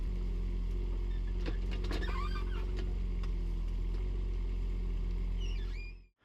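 A digger's engine runs steadily while pulling out Leylandii hedge roots, a constant low hum with scattered scraping and creaking bursts near the middle, no voices.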